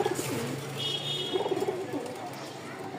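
A pair of gorra pigeons coos close by in soft, repeated throaty bursts, with faint chirps and background noise and some talking around them.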